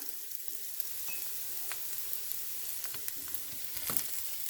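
Okra (ladies finger) fries in hot oil sprinkled with chili powder, giving a faint, steady sizzle with occasional soft crackles and a light stir.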